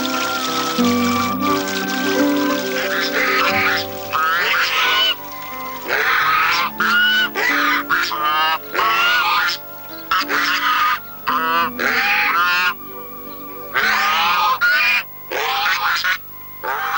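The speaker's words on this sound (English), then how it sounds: "These are the Chinese geese." Chinese geese, including a gander, honking loudly in a garden, with repeated harsh nasal calls in overlapping bursts, close by and without talk.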